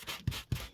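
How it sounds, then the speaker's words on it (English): Sanding block rubbed back and forth across glossy paper to dull its finish, a close, soft, raspy scraping in three quick strokes with faint thumps where each stroke turns. "So I'm taking a sanding block"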